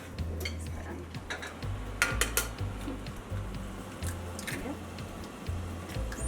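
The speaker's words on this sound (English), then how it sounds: "now this bowl will mix the eggs for the egg muffins" Eggs for egg muffins are mixed in a bowl, giving a steady run of soft rhythmic clinks and scrapes of the utensil against the bowl, close by under a low hum, with no talk.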